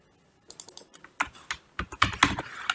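Someone types a command on a computer keyboard, a close series of irregular clicking keystrokes starting after a brief silence and quickening into denser bursts toward the end, with no talking.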